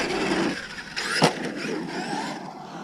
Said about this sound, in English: A little bit of chassis slap.